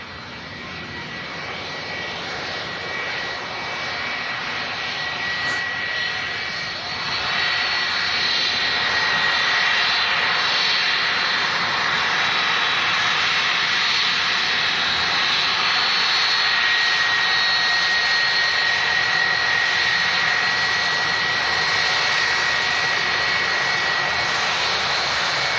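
Jet airliner engines roar steadily at an airport during plane spotting, a broad continuous rumble that swells slightly louder partway through as the aircraft passes near.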